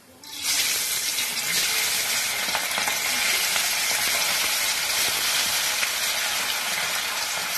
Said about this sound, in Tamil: இப்ப இதை எண்ணெயில போட்டு பொரிச்சு எடுத்துக்கலாம்.